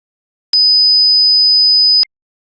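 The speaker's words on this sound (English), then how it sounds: "Let me play you a sample test tone. It's piercing, so get ready." A single steady, piercing sine test tone used for home studio acoustics, sounding loud and pure for about one and a half seconds, with abrupt clicks where it starts and stops against silence.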